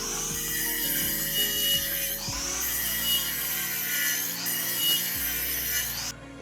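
A hand saw cuts a round piece about 2 cm thick from a wooden log, with steady back-and-forth strokes grinding through the wood, close and fairly loud, without speech.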